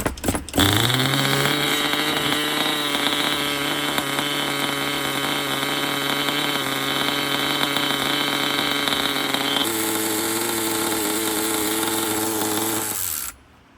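A used Kyosho GP Ultima RB nitro RC car's small engine is pull-started, catches at once and holds a loud, steady, buzzing idle nearby, shifts pitch slightly midway, then cuts out abruptly.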